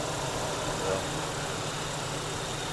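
An 80s to 90s Ford truck engine idles after a Saginaw power steering pump retrofit, giving a steady, smooth, fairly quiet hum with no whine and no talk.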